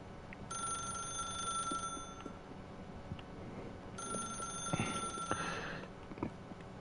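A telephone rings twice in The Stanley Parable, each ring a sustained electronic bell lasting about a second and a half, separated by a pause, with faint low background noise beneath.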